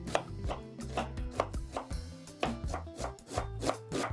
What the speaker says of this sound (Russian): Мелко порежу репчатый лук.